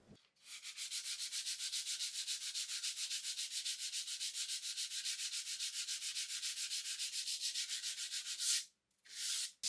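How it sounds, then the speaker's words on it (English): Sandpaper wrapped around a wooden block rubs back and forth along the edge of a painted bedside table, making a fast, even rasping rhythm of short strokes that stops briefly near the end. "I take a block of wood and I wrap some sandpaper around the wooden block. And then I go ahead and I sand each side"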